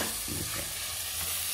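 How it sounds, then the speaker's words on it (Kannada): Tomato gravy for cooker biryani frying and being stirred, a brief close sizzle with soft scraping of the spoon, steady and moderately loud, no voices. "ಫ್ರೈ ಮಾಡ್ತಾ ಇರಬೇಕು"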